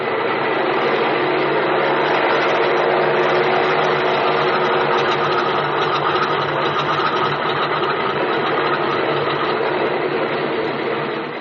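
A vintage aircraft engine drones steadily before take-off, a loud continuous rumbling roar with a faint rhythmic beat, unbroken throughout, in an old radio drama.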